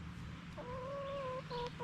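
Laying hens on a homestead clucking close by, a drawn-out tonal cluck followed by a couple of shorter calls over steady farmyard background noise.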